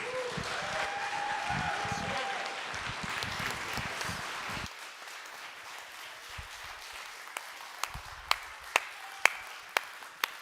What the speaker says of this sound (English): Can you guys all please give Rick a round of applause